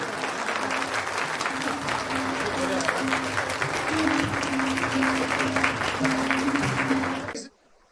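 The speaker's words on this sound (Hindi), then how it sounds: "जोरदार तालियों से अभिनंदन हो जाए" Loud, sustained clapping from a large crowd fills the space with a steady roar, then cuts off abruptly at the end.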